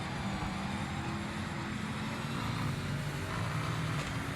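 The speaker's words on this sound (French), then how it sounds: "Gros bruit sur cette voiture également. Gros moteur." Marcos racing car with a big front-mounted engine lapping Donington in a racing video game, a steady loud drone held throughout without any talk.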